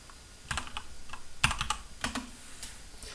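Typing on a computer keyboard while building a game character model, a quick run of light close-up key clicks in uneven bursts with no talk.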